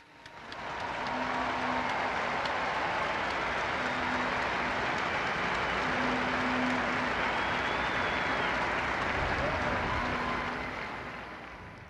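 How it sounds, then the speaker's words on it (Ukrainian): Large crowd applauding at the Angelus with Pope Francis, a broad, steady roar of clapping that fades in, holds for about ten seconds and tapers off. "Вітаємо нашу матір разом, всі разом, оплесками."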